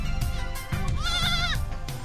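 Goats in a Mongolian family's herd bleat loudly and close by, with several wavering, overlapping cries, one long quavering call standing out over constant low background noise.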